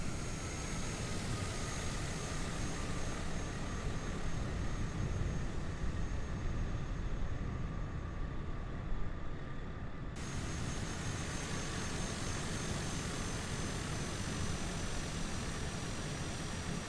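Steady aircraft engine drone while taxiing to the runway in Microsoft Flight Simulator 2020: a dense, even, hissing whine with a constant tone that continues without a break.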